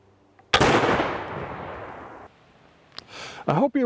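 A black powder muzzleloader fires once with a loud, sharp report whose smoky boom decays for well over a second, followed by a short clatter and a person beginning to speak.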